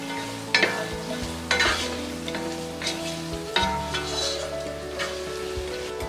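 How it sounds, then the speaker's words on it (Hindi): Beans, carrot and cauliflower get stirred in a frying pan for veg tahari, with a steady sizzle under repeated scraping and clattering strokes of a spoon roughly every second, close and clear. "कैरेट, कॉलीफ्लावर, मिक्स कर देना है।"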